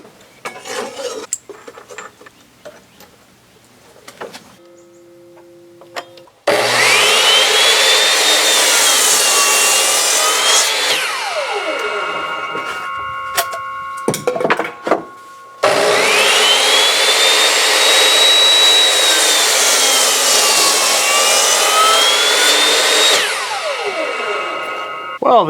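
A Chicago Electric circular saw with a freshly resharpened blade rips through wood in two long, loud cuts, its motor whining steadily through each pass and spinning down between them, with clattering handling noises before and after.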